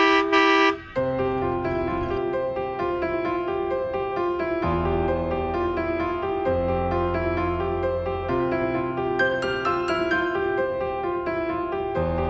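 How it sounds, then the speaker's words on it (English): A car horn blares in one long continuous honk, loud and close, with a few shifts in pitch partway through. "I'm gonna give them a big honk."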